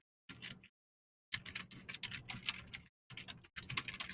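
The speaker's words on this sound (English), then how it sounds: "Sorry if that's aggressively loud keyboard clacking" Loud computer keyboard clacking in several quick bursts of rapid keystrokes separated by short silent pauses, close and alone with no talk.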